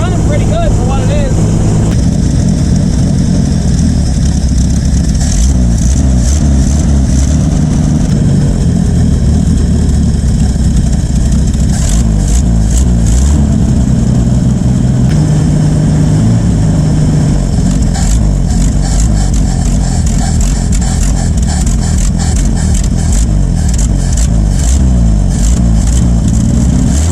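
A Ford F350 truck's engine, freshly treated with Seafoam through the carburetor, runs steadily and loud throughout with a deep rumbling idle and occasional revs, while someone talks over it.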